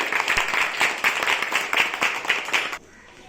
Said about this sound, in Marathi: तिच्यासाठी जोरदार टाळ्या वाजवा.